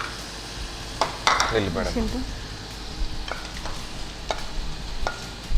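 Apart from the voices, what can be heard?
food frying in a pan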